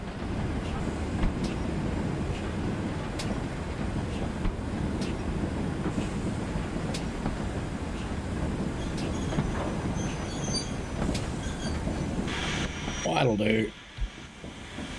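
A TSC Class 6000 King steam locomotive shunts wagons in a train simulator game, with a constant rolling rumble, scattered metallic clanks and a squeal of wheels near the end, while someone briefly speaks over it.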